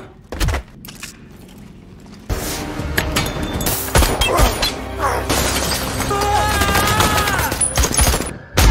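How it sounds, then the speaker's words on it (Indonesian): A film shootout with bursts of gunfire, sharp impacts and a shattering crash, loud and dense over an intense score with a brief voice. "baku tembak pun kembali terjadi"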